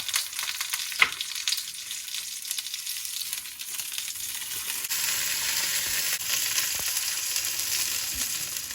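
Veal shank for osso buco frying in a pan, a soft continuous sizzle with a few scrapes and bumps, growing a little brighter and steadier after the meat is turned.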